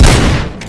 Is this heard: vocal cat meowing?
no